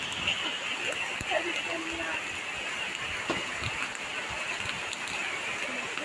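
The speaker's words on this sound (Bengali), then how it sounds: "আজকে আমাদের এখানে অনেক বৃষ্টি হচ্ছে" Heavy rain falls steadily in a broad, constant hiss, with scattered drips and small splashes over a continuous wash, no pauses.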